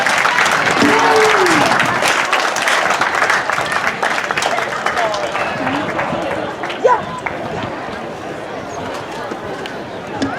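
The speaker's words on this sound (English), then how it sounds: "Let's give him another round of applause, ladies and gentlemen." An audience at a Philippine Weekend community event applauds loudly, dense close clapping mixed with cheers and crowd chatter that slowly tapers off over about ten seconds.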